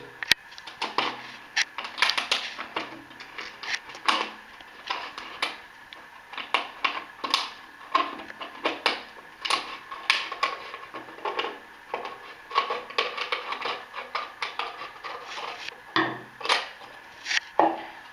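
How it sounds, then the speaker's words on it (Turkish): Scissors snip and crunch through a stiff plastic PET bottle in a long run of quick, uneven cuts, close by and without talk. "Öncelikle pet şişenin çizdiğim taraftan kesiyoruz."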